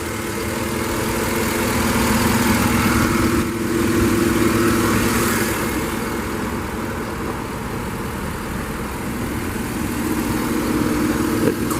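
A 2010 Chevrolet Tahoe LS V8 idles smoothly and evenly, heard from close by with the hood open, a steady low rumble holding throughout with no talking.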